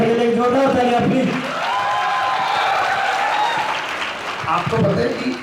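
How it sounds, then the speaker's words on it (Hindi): An audience applauds to welcome a teacher, Gagan Sir, onto the stage at an SSC CGL topper meet. The applause is loud and fills the whole stretch, with voices and crowd noise mixed in. "सर के लिए जोरदार तालियां प्लीज।"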